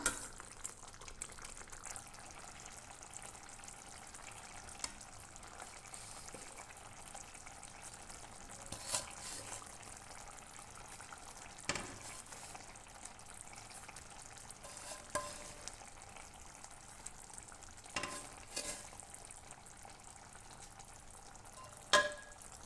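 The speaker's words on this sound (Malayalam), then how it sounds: "ഇതൊന്ന് തിളപ്പിച്ചെടുക്കാം ഇപ്പോൾ ഏകദേശം തിളച്ച് നന്നായി കുറുകി വന്നിട്ടുണ്ട്" An egg masala roast simmers in a pan with a faint, steady bubbling sizzle, broken now and then by soft clicks and scrapes of stirring.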